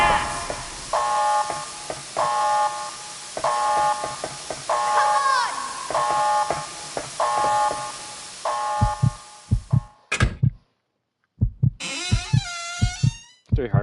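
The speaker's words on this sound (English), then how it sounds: "Three heartbeats? Weird." Heartbeat sound effect from the video game Resident Evil Code Veronica X, a series of soft rhythmic thumps beneath a repeating pulsing tone, followed by sharp low pulses and a sweeping high squeal near the end.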